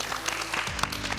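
Brief burst of audience applause at a discussion event on higher education, dense clapping from a crowd in a hall with some low tonal hum underneath, lasting just over a second.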